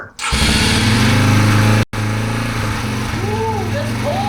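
A small motorcycle engine, just repaired, starts after choke is set and runs loud and close, cutting out briefly before catching again and settling into a steady idle with faint high whines over it.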